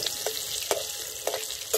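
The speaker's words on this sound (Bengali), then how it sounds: "ভাজা শুরু করে ভেজে নিচ্ছি।" Three medium potatoes fry in hot oil seasoned with salt and turmeric, giving a steady hissing sizzle punctuated by a few soft stirring scrapes.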